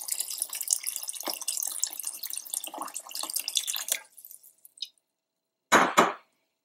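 Water poured from a tap into a pot of chicken corn soup, a continuous splashing stream for about four seconds, then a few trailing drips and two short clanks.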